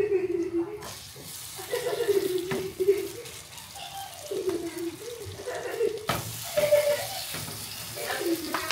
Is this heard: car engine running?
no